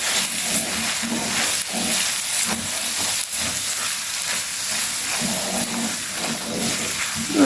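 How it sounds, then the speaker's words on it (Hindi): Keema with green onions frying in a pan and gently stirred with a spoon: a continuous close sizzle and hiss, with faint scraping strokes repeating underneath. "इसके साथ ही दोस्तों हम इसमें हरी प्याज डाल देंगे। और 1 से 2 मिनट हम चम्मच चलाएंगे।"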